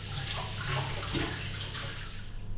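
Something being washed under running water from a tap while making a quick tomato soup in a home kitchen, a steady continuous rush and splash with a faint hum beneath, close and alone.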